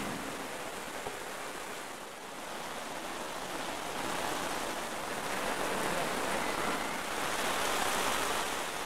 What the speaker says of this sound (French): Voilà des jours qu'il pleut sans discontinuer dans la cordillère des Andes.